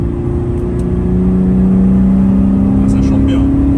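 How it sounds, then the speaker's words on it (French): A Porsche engine droning loudly and close with a sustained tonal note that gradually shifts pitch as it revs, heard without talk over it. "Mais le son quand même de Porsche"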